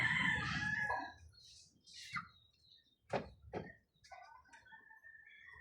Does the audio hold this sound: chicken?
yes